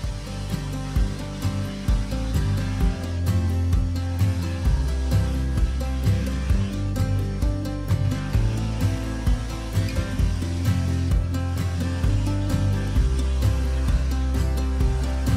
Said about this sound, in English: It's tempting to try to take too much off with a drum sander